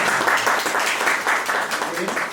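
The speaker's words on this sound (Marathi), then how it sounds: "त्यांच्या टाळ्या वाजवा" An audience claps after a talk on natural farming, a short stretch of steady, fairly loud clapping that continues throughout.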